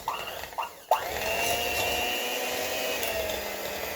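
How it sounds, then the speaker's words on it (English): A kitchen blender whips a cheese mixture for keto grilled cheese. After a few brief bursts it settles into a steady, loud, continuous whir that runs to the end with no talking. "Now, I'm going to take my blender"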